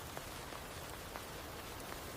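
Steady rain falls on a city street, a dense, even hiss with faint scattered drops and no voices.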